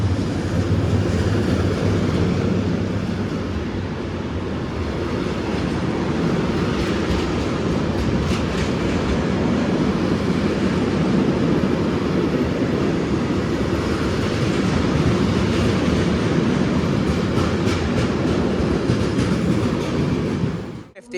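A train passes through Stoke-on-Trent station: a loud, steady rumble with clattering wheels over rail joints, near and continuous, fading abruptly at the end, with no voices.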